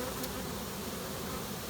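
A honey bee swarm hums steadily and densely at close range, a continuous many-winged buzz with no voices over it.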